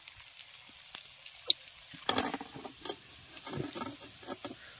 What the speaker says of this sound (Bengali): আরো একটা বেশ পকোড়া ভেজে নিলাম।